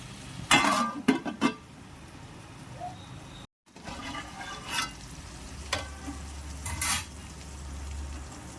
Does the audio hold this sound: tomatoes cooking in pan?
yes